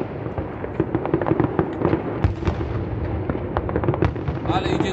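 New Year firecrackers and fireworks burst in a rapid, irregular crackle, some pops near and sharp and others distant, with faint voices in the background.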